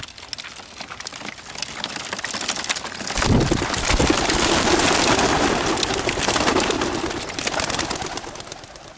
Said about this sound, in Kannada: ಬರ್ಡ್ಸ್ನ ನಾನೀಗ ರಿಲೀಸ್ ಮಾಡ್ತಾಯಿದ್ದೀನಿ